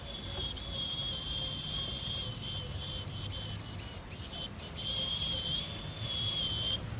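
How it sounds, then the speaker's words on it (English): A small RC4WD WARN winch on an RC vehicle pulls it up an incline, giving a continuous close mechanical whine and grinding hum with faint clicks, outdoors over steady background noise. "Oh, I love using a winch."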